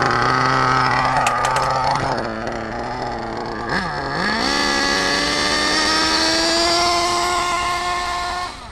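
A Reedy 121-VR nitro engine idling on an RC8T buggy, a steady buzzing whine that dips briefly mid-way and then settles back into an even, loud drone.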